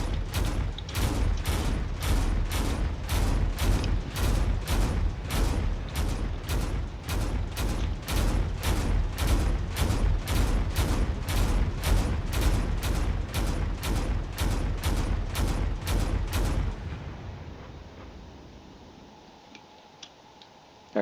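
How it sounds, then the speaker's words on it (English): A carrier ship's turrets in the game Drone Wars fire a long, steady string of evenly spaced loud shots, about two per second, before abruptly stopping and leaving a fading low hum. "Carrier is out there keeping its distance and firing whatever it can."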